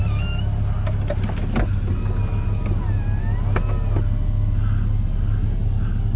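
A power Targa roof top on a car closes back up, a steady motor whir under a low rumbling drone, with a few faint clicks and a mechanical slide near the start.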